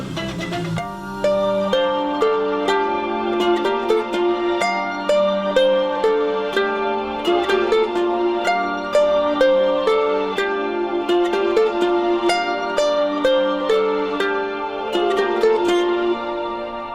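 Bright plucked ukulele plays a closing passage of ringing notes with steady rhythm, sustained and close, with no talking.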